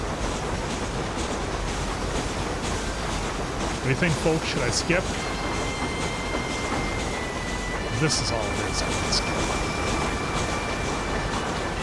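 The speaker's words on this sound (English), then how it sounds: "This choo-choo is really loud." A steam train running in the Red Dead Redemption video game gives a steady, loud rumbling roar with faint higher clanks throughout, while a person talks over it.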